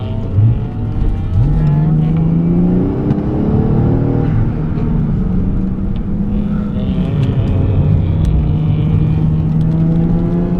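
A 1994 Toyota Mark 2 Tourer V JZX90 drives on the Suzuka race track, its engine loud and continuous as it revs up and down through gear changes, heard from inside the car with no talking.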